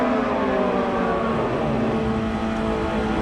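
Kawasaki ZX motorcycle at a drag strip during world finals racing, a loud, sustained high-revving engine roar with a rich harmonic whine, continuous and close for a few seconds.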